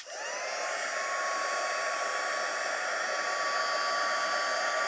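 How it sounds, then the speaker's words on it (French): A Stampin' Up heat gun warms embossing powder, giving off a steady, loud whirring blower hiss with a thin high whine that stays constant throughout, with no talking. "je vais maintenant prendre mon pistolet chauffant et je vais venir"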